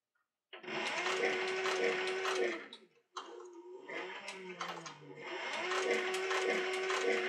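Sewing machine stitching a leather mask, running in two long steady bursts with a steady motor whine, separated by a short pause and a quieter stretch of clicking and handling.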